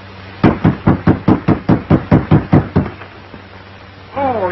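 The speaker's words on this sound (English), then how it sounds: "Knock again." Loud knocking on a wooden door, a rapid run of about twelve evenly spaced raps close by, followed by a brief pause and a short burst of vocal sound.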